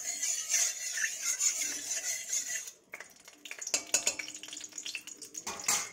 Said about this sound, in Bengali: ভাজাভুজির জোগাড়টা করি